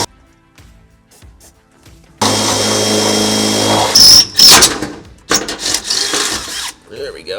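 A power drill with an 8.5 mm bit bores into the steel frame of a Ford Transit van: after a quiet start, a loud continuous whine runs for about two seconds, then breaks into shorter, uneven bursts of grinding.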